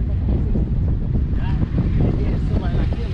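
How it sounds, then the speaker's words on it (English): Strong wind buffets the microphone at an outdoor state fair, a steady loud rumble of gusts filling the whole stretch with faint crowd sounds beneath. "Look how windy it is."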